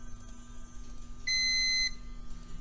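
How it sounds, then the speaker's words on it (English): A label printer gives one short, clear electronic beep after it stores a label, set against faint background hum. "Hear the beep, it's good"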